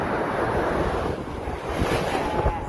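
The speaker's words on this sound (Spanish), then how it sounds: "Las olas súper súper fuertes." Strong ocean waves crash and wash continuously along the shore, a loud broad roar with heavy wind buffeting the microphone, close by and with no voices.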